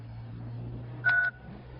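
A single short two-tone telephone keypad beep, like one button press while dialing, over a steady low hum and quiet background.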